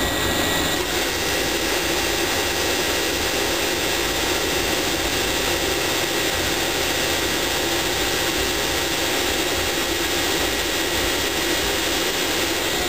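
A Redi-Line motor generator runs continuously after its fan is switched on, giving a loud, unbroken whooshing roar with a high steady whine that holds without change for several seconds.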